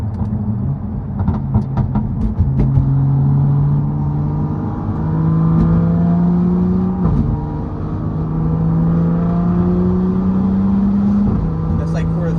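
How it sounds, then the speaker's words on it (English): A BMW F82 M4 with an M4 muffler drones at quarter throttle from inside the cabin, with a steady low exhaust tone rising through gears and a shift near the middle, while a voice talks over it. "But the M4 muffler does make it sound a lot louder."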